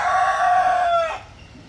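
A single loud rooster crows once, a long drawn-out cock-a-doodle-doo that rings clearly and then cuts off, leaving quiet background with no talking.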